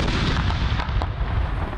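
Cannon blasts from a 21-gun salute at a ceremonial thanksgiving-day event in Pakistan, heard as dense, loud, continuous booming and rumble with no quiet gaps.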